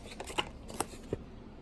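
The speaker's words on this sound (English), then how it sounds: "We got some paperwork." Paperwork and a warranty card are pulled from a Mars Hydro SP 250 grow light box during unboxing, giving three soft, brief paper rustles and taps, close and quiet.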